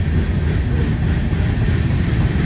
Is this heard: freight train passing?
yes